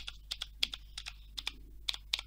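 Typing on an Aukey KM-G3 mechanical keyboard: crisp, close keystroke clicks in irregular pairs and clusters, about a dozen strikes over a faint steady hum.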